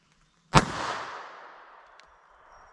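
A single sharp gunshot from a .32 ACP pistol firing Fiocchi FMJ ammunition over a chronograph, loud and close, with a long fading echo afterward and a faint click later.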